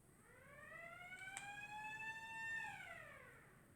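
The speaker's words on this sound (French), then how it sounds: "si vous entendez la sirène" A faint toy siren wails in rising and falling tones at a distance, one sweeping cycle with a brief click partway through.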